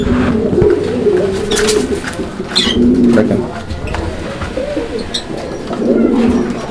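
Low, soft pigeon coos from two pigeons repeat in short bursts through the clip, with a person speaking briefly over them.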